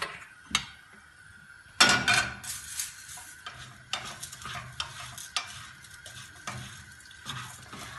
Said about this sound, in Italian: Poi comincio a tostare il riso.